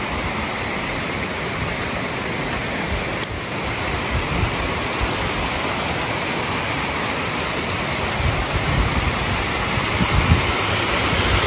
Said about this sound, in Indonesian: Lagi-lagi di sini ada sebuah aliran sungai lagi